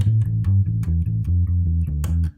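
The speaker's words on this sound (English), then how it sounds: "So our opening riff is going to sound like this." Bass guitar plays the opening riff of a song on one string, a rapid, loud run of repeated low notes in a driving sixteenth-note rhythm, heard alone.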